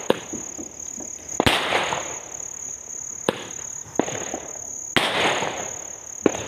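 Three sharp firecracker bangs go off a couple of seconds apart, each with a rumbling decay, over a steady high insect-like whine and background chatter.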